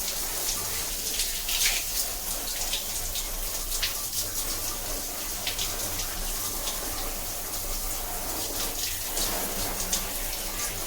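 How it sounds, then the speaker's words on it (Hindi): Steady water from a tap or hose rinses an air conditioner filter, making a continuous hissing splash with small fluctuations and no voices over it. "फिर बाद में सामने की तरफ धो लो, कोई बात नहीं।"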